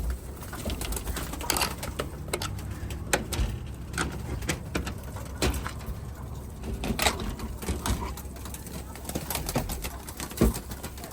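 Pigeons in a garden loft give soft, scattered coos amid rustling, fluttering and light knocks, fairly faint and close, with occasional quiet voices in the background.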